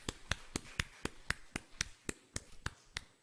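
A church congregation claps together during a Sunday worship service, producing about a dozen sharp, evenly spaced claps in a steady rhythm, fairly close and alone without talk.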